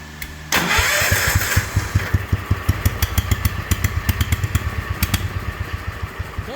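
A patio tractor engine with a new muffler cranks and catches, then settles into a loud, close, rhythmic chugging idle with steady pulsing exhaust beats.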